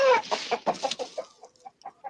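A chicken clucks up close in a quick, uneven run of short notes after a brief opening squawk, the calls thinning out and growing softer toward the end.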